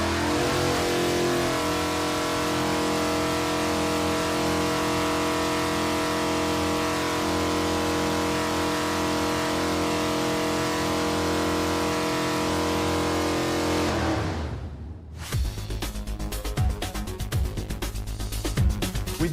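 Car engine running at steady high load on a dynamometer for a baseline power test before header wrap is fitted, a loud continuous drone with rich harmonics that cuts off abruptly near the end, followed by a rougher idle.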